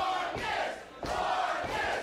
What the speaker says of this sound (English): This crowd is absolutely unglued for the young prodigy